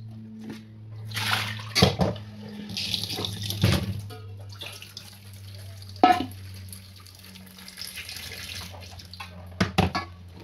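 Bottle gourds are washed under running tap water at a sink, a soft continuous stream broken by sharper splashes and knocks as the vegetables are handled and rinsed.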